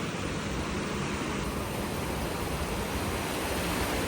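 Small sea waves at a beach in Vietnam make a steady, loud, unbroken wash of surf that never pauses.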